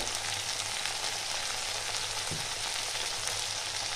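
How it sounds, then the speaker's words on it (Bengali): Spices frying in a pan while cooking a bottle gourd dish, a steady even sizzle throughout with no talking. "এটা একটু ভেজে নেব"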